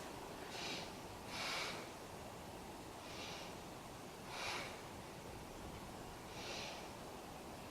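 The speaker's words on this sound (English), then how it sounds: "Let's take 3 breaths." Five slow, deep breaths during a yoga session, faint and airy, each a soft whoosh spaced about a second or two apart against quiet background noise.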